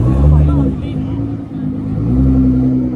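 A Nissan GT-R engine, after catching fire following exhaust pops and bangs, runs with a deep rumbling drone that swells near the end, while agitated voices and crowd babble carry on over it.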